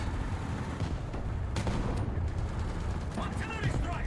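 Artillery fire in the War Thunder tank game, a dense continuous roar of booming blasts and rumbling impacts filling the whole stretch, loud and close with no pauses.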